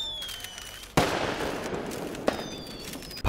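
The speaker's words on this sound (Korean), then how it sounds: "이내 폭죽들이 터졌는데요" Fireworks bursting with sharp, loud cracks followed by dense crackling and rumble, one big blast near the start, another mid-way and a third at the end, with faint whistles in between.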